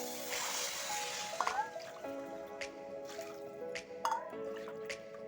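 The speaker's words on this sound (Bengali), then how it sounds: "এবার আমি দিয়ে দিলাম কিছু গরম জল।" Hot water poured into a pot of rice, lentils and spices for khichuri, trickling and dripping in short bursts with small splashes, fairly quiet and close.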